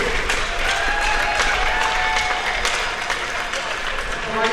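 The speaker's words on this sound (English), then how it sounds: "Let's give a big round of applause for a great weekend of hockey" Loud applause and cheering from a hockey crowd after a 14U championship game at an outdoor classic, steady dense clapping with whistles and shouts throughout.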